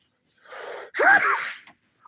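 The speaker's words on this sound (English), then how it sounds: "Oh, here comes the sneeze." A single loud sneeze up close: a breathy inhale builds, then releases in a sharp burst that trails off into quiet.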